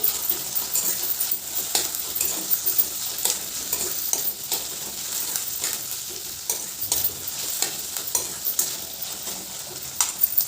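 Onion and tomato sizzle in oil while a spoon stirs them, giving a steady close frying hiss with repeated scrapes and light clinks against the pan.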